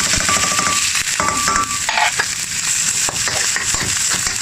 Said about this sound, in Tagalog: Wow, sizzle.